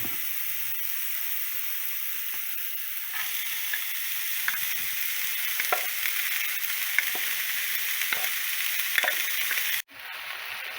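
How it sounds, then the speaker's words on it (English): Onion sizzles and crackles steadily as it fries in a hot pan, with occasional scraping stirs and a brief clatter near the end. "after frying the onion,"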